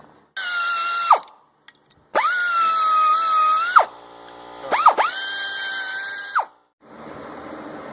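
A power ratchet or drill whines in three long bursts that rise and fall, broken by short pauses and clicks, close up, while bolts come off the front of a 2005 Lincoln Navigator 5.4 3V engine during a timing teardown.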